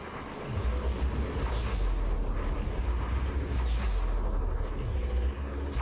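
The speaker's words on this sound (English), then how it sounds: "Those are burst lasers, I think, or very rapid fire pulse." Rapid burst or pulse laser fire in the space game Elite Dangerous, a dense, loud, continuous barrage of rumbling blasts that rolls on steadily with no gaps, alone without talk.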